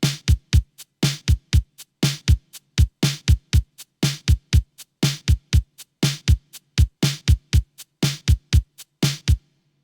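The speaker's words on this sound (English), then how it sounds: "For the kick and the snare, I'll use 80s pop kit again and record a simple drum pattern." A punchy 80s pop drum kit on a Yamaha Style Creator plays a steady, simple repeating pattern of kick and snare hits, loud and dry, looping for several bars.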